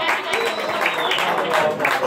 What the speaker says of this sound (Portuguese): É um salve de palmas, pô.